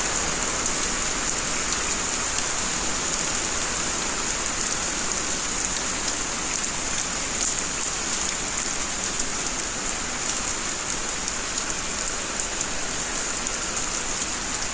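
Steady, dense rainfall at night pattering on surfaces, an even hiss that holds constant throughout with no voices.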